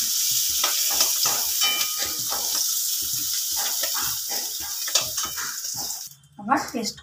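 Paneer frying in ghee or butter, a continuous sizzling hiss with spatter, under steady talk, ending with a brief stir or clatter.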